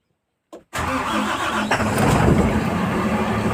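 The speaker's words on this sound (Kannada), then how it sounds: "ಇವಾಗ ಬ್ಯಾಟ್ರಿ ಚೇಂಜ್ ಮಾಡಿದ್ಮೇಲೆ ಗಾಡಿ ಶೆಲ್ಫ್ ಆಯಿತು" A motorcycle electric starter cranks briefly after a battery change, then the engine catches and settles into a loud, steady close-range idle.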